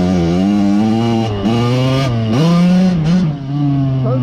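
1988 Kawasaki KX80 two-stroke dirt bike engine, back running after years in a barn, revved by throttle alone in repeated rising blips over a buzzy idle, close and loud.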